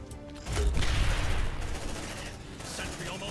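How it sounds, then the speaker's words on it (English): A sentry gun in the video game Aliens: Dark Descent fires a dense, rapid burst of automatic gunfire with booming impacts, mixed with game noise and faint voices. "Deploying sentry gun!"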